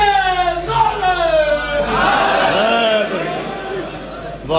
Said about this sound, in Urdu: باجمات مل کے نعرے.